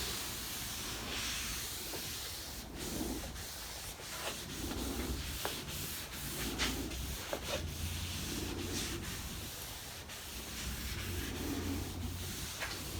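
Hand sanding on a plastic Honda motorcycle panel makes a continuous rubbing scratch in repeated strokes, moderately close and fairly quiet, with no talking.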